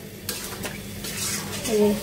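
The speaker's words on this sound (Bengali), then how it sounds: "আলু দিয়ে আবার কষাই নিচ্ছি একটু" Food being stirred and scraped in a pan with a spatula, a light sizzle underneath and occasional clinks of utensils.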